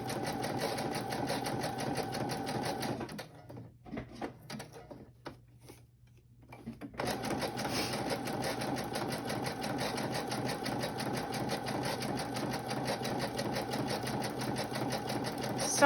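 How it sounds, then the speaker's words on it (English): A sewing machine runs a zigzag stitch with a fast, steady mechanical whir and clatter, pausing briefly midway before resuming at the same even pace. "I always make my zigzag a little bit bigger than what the default is on my sewing machine."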